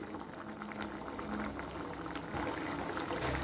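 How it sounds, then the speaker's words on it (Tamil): A pot of masala water for okra tamarind curry bubbling at a steady rolling boil, a continuous close gurgle and hiss with no talking. "இப்போ பாருங்கள் ஓரளவு நல்லா கொதிச்சிட்டு"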